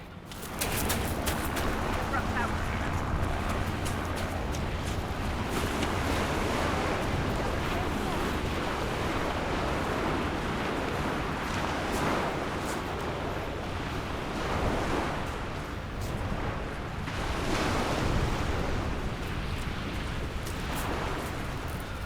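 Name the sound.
ocean surf waves at Southsea Beach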